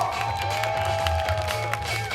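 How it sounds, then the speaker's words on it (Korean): Crowd applause and cheering greet a girl competitor entering a youth breaking battle, steady clapping mixed with held whistle-like tones and low background music, loud and continuous. "여러분 등장 때도 박수 주세요"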